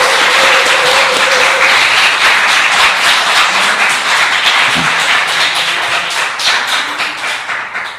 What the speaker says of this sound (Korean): 감사의 박수를 전합시다